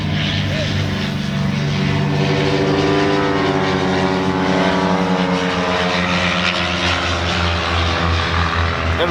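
A propeller airplane drones overhead at the Oshkosh fly-in campsite, a loud steady engine hum holding throughout with a slight rise and fall as it passes, voices faintly audible underneath.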